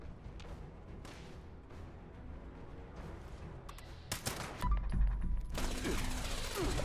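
Gunfire in the Fallout 76 video game, with dense bursts of shots and impacts building toward the end, over steady ambient game noise.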